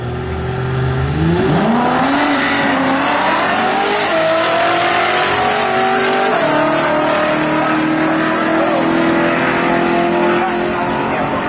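An old Mopar drag car accelerates hard down the strip toward the finish line at a Mopar drag meet, its loud engine note climbing steadily in pitch as it pulls away over a constant roar of crowd and track noise.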